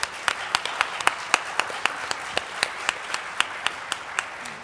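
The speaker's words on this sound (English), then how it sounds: "please join me again in a warm round of applause for our panel" Audience applauding a panel at a water and climate conference, steady crowd clapping with sharp individual claps standing out at a regular pace, moderately loud and without speech.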